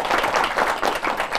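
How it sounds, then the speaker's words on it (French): Studio audience applause on a French talk show, a short burst of many hands clapping with a busy, crowd-like wash throughout. "On applaudit très très fort."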